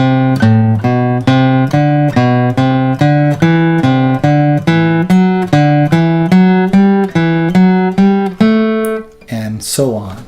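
Guitar picks a major scale in overlapping four-note sequences, a steady run of single plucked notes stepping upward one after another, clear and close, ending with a brief strum.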